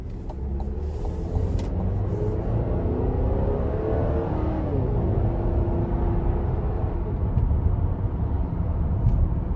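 A 2025 Buick Enclave Avenir pulls hard out of a corner, heard from inside the cabin as a steady loud road rumble with an engine tone that rises in pitch midway, then settles.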